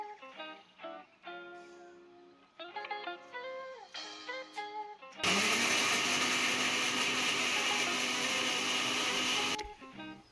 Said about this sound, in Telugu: ఇప్పుడు మిక్సీ జార్లో టమాటాని తీసుకొని ముక్కలు కోసుకొని అలానే సేమ్ ఇప్పుడు ఎలా అయితే పేస్ట్ పట్టుకున్నానో అలానే పేస్ట్ పట్టి